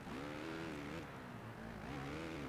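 A motocross bike engine in the MXGP video game revs and accelerates with a continuous buzzing whine that rises and dips, steady and fairly loud, with no talk.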